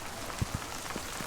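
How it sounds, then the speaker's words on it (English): Light rain just beginning to fall outdoors beside a wood-stove firewood pile, a soft steady patter with a few isolated heavier drops tapping nearby. "It's actually just starting to rain"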